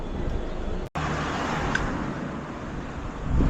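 An unregistered motor vehicle passing on a road, a steady broadband roar of traffic noise that cuts out for an instant and then continues, swelling slightly near the end.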